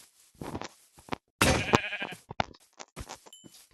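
Scattered clicks and taps surround a loud, drawn-out sheep bleat in the middle, then more quick tapping sounds.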